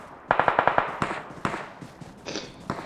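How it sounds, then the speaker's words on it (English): Gunfire in the PUBG battle royale game crackles in a quick burst of about six rapid shots followed by scattered single reports, sharp but moderately distant. "Oh crap, we're getting shot at."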